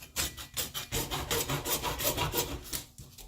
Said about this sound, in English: for this what I like to use is just a hacksaw